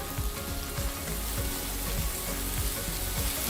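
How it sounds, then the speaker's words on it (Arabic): Green chilies sizzling with onion and garlic in hot oil, a steady loud frying crackle with repeated soft scrapes of stirring, close and continuous without any voices. "وهديهم تشويحه مع البصل والثوم"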